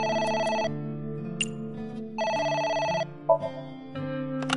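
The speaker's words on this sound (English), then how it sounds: "It's the phone. Maybe try picking it up?" In the video game AI: The Somnium Files, a phone rings in repeated bright electronic bursts with short gaps between them, clear and alone.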